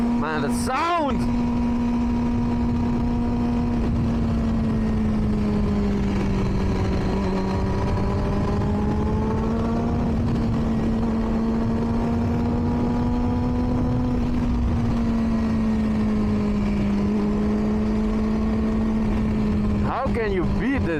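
A 2005 Triumph Daytona 600 motorcycle engine hums loud and close while riding, its pitch sagging and swelling gently through mild rev changes, with wind buffeting at the start and end.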